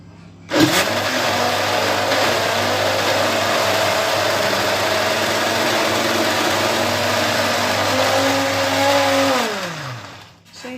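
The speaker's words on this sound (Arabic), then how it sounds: "احنا ممكن نحط بس نقطه ميه بس عشان الخلاط يمشي معانا." An electric blender whirs steadily as it purees frozen mango into ice cream with a drop of water, a loud continuous motor drone that starts abruptly and winds down near the end.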